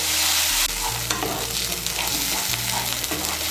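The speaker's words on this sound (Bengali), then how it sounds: "পেস্টটা তৈরি করে নিয়েছি সেই পেস্টটা দিয়ে দেব। মিশিয়ে নেব ভালো করে।" Homemade spice paste for Bengali aloo dum stirred and fried in a pan, a steady close sizzle with scraping stir strokes throughout, no talking.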